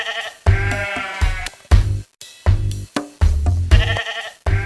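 Sheep bleat loudly and close by in a string of separate wavering calls, several overlapping in quick succession with short pauses between them, with no talk.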